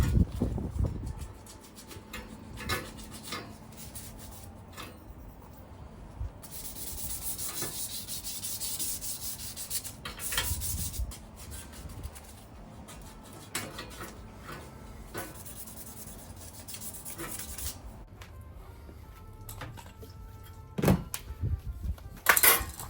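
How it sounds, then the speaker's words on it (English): A bike frame's paint being hand sanded with 320 grit sandpaper to scuff it for primer, with repeated close scratchy rubbing strokes in an irregular rhythm, some bursts louder, alone without talk. "I've only got 2 sandpapers, so I'm having to use 320. just to scuff the paint so the primer will stick."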